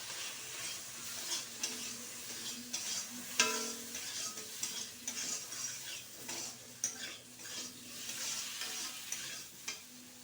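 Tomatoes go into a sizzling pan of prawn and lentil-dumpling sour curry, a steady frying hiss with scraping stirs and occasional clinks of a utensil against the pan, close and continuous with no talking.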